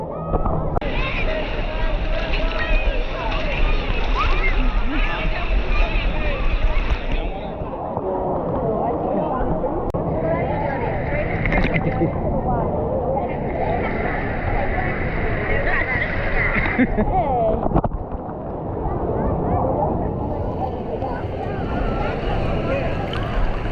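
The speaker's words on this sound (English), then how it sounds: "Waves." Waves surge through the Typhoon Lagoon wave pool at a Disney water park in a steady, broad wash of water that swells and eases across the scene, while people talk and call out nearby.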